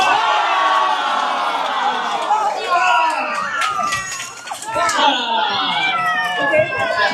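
A crowd at a Winter Solstice celebration bursts into cheering and clapping after a countdown, with excited voices and some applause amid loud chatter, people speaking over it.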